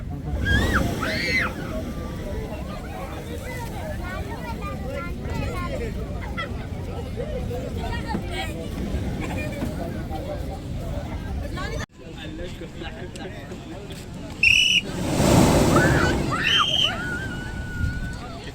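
Waves washing onto the shore at Salalah, Oman, a steady low surf rumble running under crowd chatter and nearby voices throughout.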